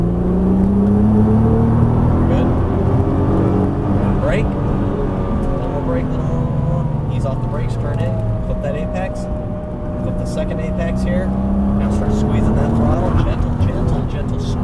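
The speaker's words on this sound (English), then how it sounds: "Put 550 horsepower down in one shot." Nissan GT-R twin-turbo V6 rated around 530 to 550 horsepower accelerating hard, its engine note rising and falling in heavy rumbling surges, loud inside the car with people talking over it.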